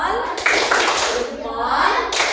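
Children in a classroom give a salute clap for a classmate who answered correctly, a short burst of clapping with a couple of sharp accents mixed with children's voices and a teacher talking throughout.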